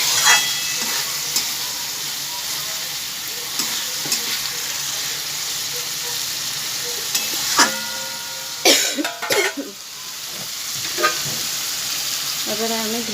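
Pointed gourd (potol) frying in a pan while being stirred: a steady sizzle runs throughout, broken by scraping and clinking of a utensil against the pan that grows louder and more frequent near the end.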